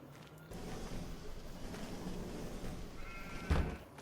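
Sheep in Farming Simulator 25 on the Castilla y León map, a faint bleat among soft ambient farm noise with a low thud near the end, no talking.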